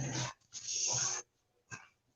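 A small 10-pound black bully dog whimpers and whines in two breathy bursts, followed by a short squeak, close by and fairly faint, with no one talking.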